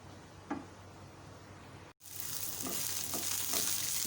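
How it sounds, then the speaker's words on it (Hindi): Green chillies fry lightly in a pan, a soft steady sizzle with a few stirring taps; after a brief cut the frying becomes louder and more hissing, close and continuous. "फ्राई करें इनको अच्छी तरह से, सौते टाइप, बहुत ज़्यादा डीप फ्राई नहीं कर रही हूँ मैं"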